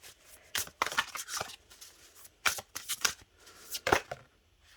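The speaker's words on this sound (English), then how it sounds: "I'm going to pull from the Oracle of the Seven Energies card deck by Collette Baron-Reid" An oracle card deck being shuffled in short bursts, crisp riffling and flicking of cards repeated several times with brief pauses, close and fairly quiet.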